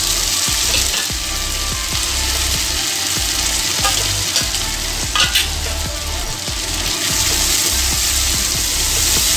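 Chopped tomato frying with golden browned onions in oil for a Bengali kanchkolar kofta curry, a loud steady sizzle close by with regular scraping stirs throughout and no talking.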